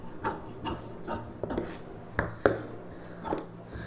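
Scissors slicing through silk blouse fabric in a series of short rasping snips with small taps, close and fairly quiet, with no voice over it.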